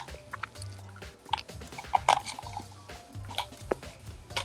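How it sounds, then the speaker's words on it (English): Someone munching on candy corn up close: soft, irregular crunchy chewing with small wet clicks, fairly quiet, under a low background hum. "Munching on candy corn, actually."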